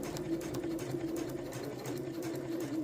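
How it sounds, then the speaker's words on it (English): A sewing machine back stitches in a short, steady burst, its motor humming close and fairly quiet with a fast, even needle rhythm. "I'm just going to back stitch one there"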